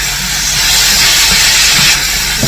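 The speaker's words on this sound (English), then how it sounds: "now I'm going to put in my vegetables. And fry these up." Vegetables for pepper steak frying in a hot pan, giving a loud, steady hiss of sizzling close up with no break.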